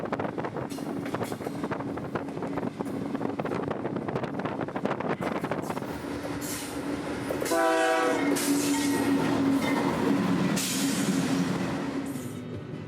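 A CSX freight train rolls steadily past a road crossing at State Road 52, wheels clattering and wind buffeting the microphone, then a loud, close horn blast sounds for several seconds as the cars keep rumbling by.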